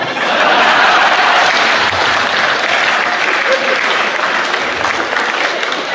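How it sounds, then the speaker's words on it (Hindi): Sustained audience applause at a Hindi comedy poetry gathering (hasya kavi sammelan), a dense, loud wash of many hands clapping steadily throughout, with faint scattered chuckles in the crowd. "ये तालियां बजाने वाली बात नहीं थी"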